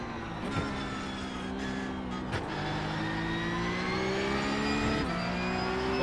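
A Porsche Cup race car engine in iRacing revs hard and steadily climbs in pitch, with brief dips at gear shifts, loud and close throughout.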